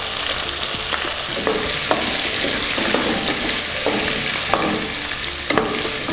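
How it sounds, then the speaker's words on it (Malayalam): Ginger, garlic and shallots sauté in oil in a pan for pork varattiyathu, a steady close sizzle broken by repeated scraping stirs of a spatula, with no speech. "അതുവരേക്കും നമുക്കിത് നന്നായിട്ട് വഴറ്റിയെടുക്കാം."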